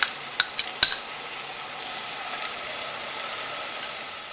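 Ginger, garlic and shallot paste frying in a pan for vegetable biryani, a steady soft sizzle with a few sharp clinks of a spoon against the pan near the start.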